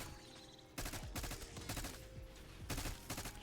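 Black Ops 6 Zombies gunfire erupts in loud, dense bursts of rapid shots, starting abruptly after a brief quiet moment and continuing with short pauses, close and unaccompanied by speech.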